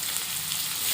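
Food frying in hot oil with salt and turmeric: a brief, even, dense sizzle at close range, steady throughout.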